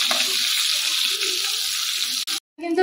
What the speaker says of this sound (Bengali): এখানে তেল কিন্তু গরম হয়ে গেছে। তো এর মধ্যে দেখুন এবার বেগুনগুলো দিয়ে দিচ্ছি।